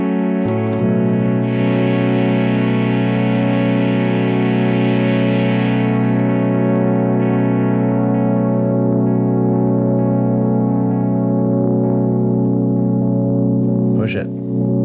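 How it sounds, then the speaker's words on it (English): A synthesizer tone runs through delay, chorus and reverb effects as one loud, sustained droning chord, with shimmering upper layers that swell and fade before a pitch swoop near the end. "I actually want to go delay into chorus into reverb."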